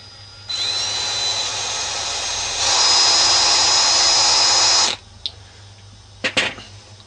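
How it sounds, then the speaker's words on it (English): A power drill boring a pilot hole, likely in a pole for a water-fed window cleaning setup, whines steadily for several seconds, rises in pitch partway through, then stops, followed by a couple of brief clunks. "Drill in the pilot hole."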